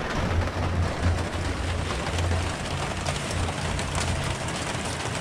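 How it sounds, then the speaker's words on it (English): Steady rain pours down outdoors on a home construction site during HVAC installation work, a dense continuous hiss with a low rumble underneath. "Gonna have to work in the rain today."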